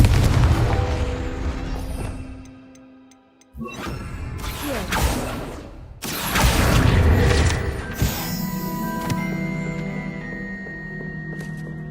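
A Confringo blasting spell in Hogwarts Legacy sets off heavy booming explosions, with a deep low-heavy blast, a short quiet gap, then further rumbling impacts and crashing debris.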